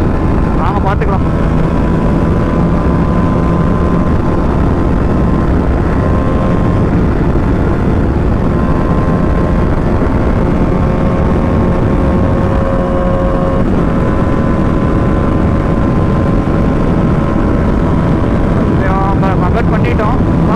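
A TVS Apache RR310 motorcycle engine drones steadily at speed in traffic, loud and continuous with heavy wind rush; a rider speaks over it.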